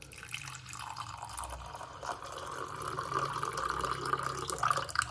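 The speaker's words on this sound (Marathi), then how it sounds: "तर गरम पाणी पण आपण टाकू" Hot water is poured from close by onto packet instant coffee in a cup, a continuous trickling gurgle that swells slightly louder as the cup fills.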